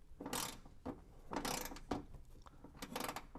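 A ratchet tightens a bolt on an auxiliary fuse block bracket, giving several short bursts of clicking strokes separated by brief pauses, close and fairly quiet.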